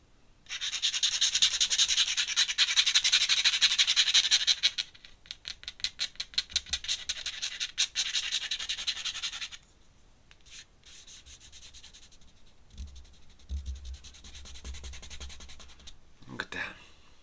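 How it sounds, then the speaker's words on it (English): Close, faint scratchy rubbing on paper over an ink drawing, first a continuous brushing stretch, then a run of quick rhythmic strokes, then quieter intermittent rubs. "Rubbing it down just to kind of give it a slight kind of greyness to it."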